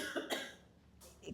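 A short, slightly throaty cough from a person bothered by a tickle in the throat, close up, with a second fainter cough burst about a second later, no talking.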